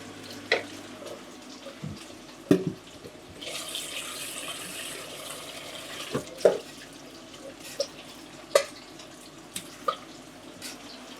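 Tap water runs into a sink while mung beans are washed at home, a steady faint wash broken by scattered clinks and splashes, with no talking.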